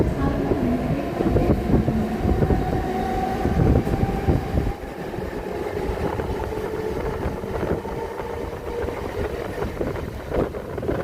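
A 12-car Mumbai Harbour line local train from Goregaon toward Panvel rumbles steadily from inside, with a continuous roar and faint clickety-clack of wheels over the track, loud and sustained.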